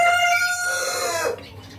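Chickens in a coop, one rooster crowing in a loud drawn-out call that tapers off, with faint clucking behind it.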